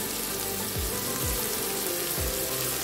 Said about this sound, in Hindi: अब हम वेजिटेबल पकाएंगे। सबसे पहले प्याज शामिल करेंगे